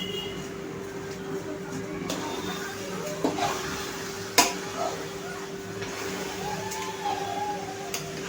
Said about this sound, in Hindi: अब हम इसे अच्छी तरह से मिला देंगे।